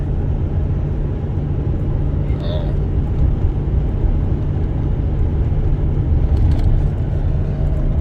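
A vehicle engine labors steadily up a steep grade of Interstate 8 near mile marker 80, held in third gear at about 40 mph, producing a continuous loud rumbling drone with road noise throughout and no breaks.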